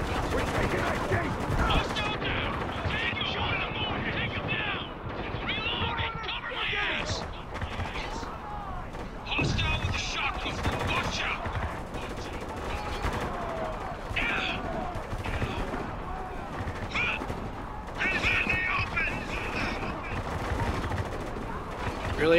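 Sustained gunfire from a Spec Ops: The Line battle, rapid automatic bursts and shots rattling continuously and loudly across the whole stretch, with shouted voices mixed into the chaos.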